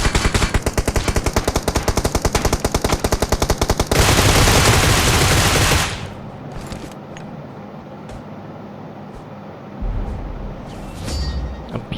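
Rapid automatic gunfire from PUBG Mobile rattles in a dense, fast burst for about four seconds. A louder roaring wash follows, then scattered softer shots and impacts, with no talking.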